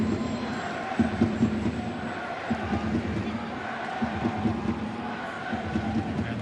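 Steady roar of a large football crowd at a night-time Newcastle Jets v Central Coast Mariners derby, a dense continuous wash of voices with occasional swells, heard from within the stadium.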